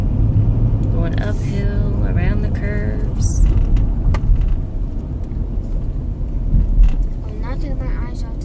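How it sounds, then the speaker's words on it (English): A car drives uphill around curves on a road in Tennessee, its steady engine and road rumble running throughout with occasional clicks and knocks, while people talk inside the cabin. "Going uphill, around the curves."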